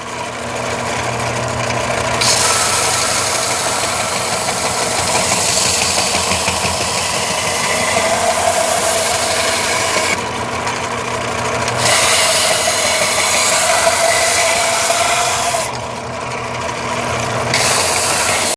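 Benchtop sander working wooden boards with 180-grit sandpaper for rustic farm-style end table, a loud continuous motor whir with abrasive rasping that swells and eases as boards are pressed on and lifted off.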